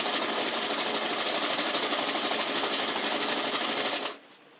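Close, steady rapid whir of a sewing machine running a zigzag stitch along couch fabric, continuous for about four seconds before it cuts out abruptly.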